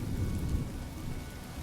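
Steady rain with a low thunder rumble in the Honkai Star Rail video game, a soft, even wash of falling water under a dull, distant roll, with no voices.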